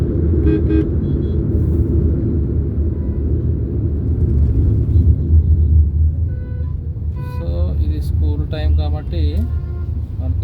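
Heavy traffic on the Endada highway heard from inside a moving car, a loud continuous road rumble with passing vehicles and horn toots growing busier toward the end, while people talk over it.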